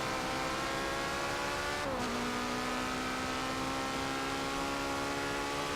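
A race car drifting in Forza Motorsport 7 with four-wheel steering holds a steady, droning engine note that dips briefly and then settles into a constant high whine.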